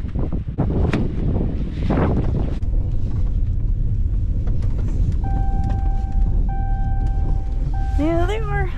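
Steady gusting wind buffets the microphone on a small dairy farm, a low broadband roar throughout, with people talking nearby and a brief chirping tone near the end.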